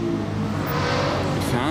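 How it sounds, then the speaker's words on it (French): A Ferrari F12 engine revs out on a street in Juan-les-Pins, a loud, close, rising harmonic growl that climbs in pitch through a short burst. "Elle fait un bruit la F12 là."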